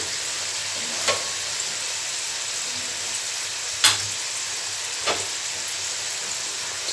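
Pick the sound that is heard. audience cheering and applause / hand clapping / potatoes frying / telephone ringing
potatoes frying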